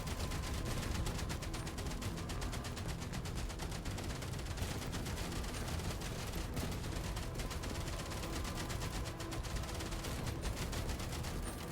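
Gatling gun fire in Outpost Infinity Siege pours out as a rapid, unbroken stream of rattling shots, steady and dense through the whole stretch, loud and close with no talk over it.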